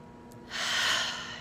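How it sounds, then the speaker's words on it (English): A single deep breath, drawn in quietly and then released in a long, soft, airy exhale, close and alone. "So take a deep breath with me"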